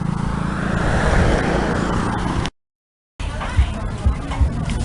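A car drives fast along a road, a broad rushing road noise heard from inside, interrupted by a brief gap of silence, then returning with engine bumps and faint voices.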